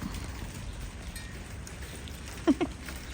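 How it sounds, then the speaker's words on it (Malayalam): Hailstones fall sparsely, giving a faint steady patter with two sharp close impacts near the end. "ആലിപ്പഴം വീഴുന്നു."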